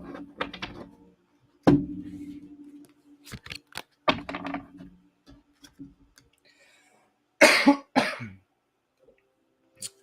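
A person coughs and clears their throat in several separate dry bursts, close and fairly loud, with quiet pauses between them.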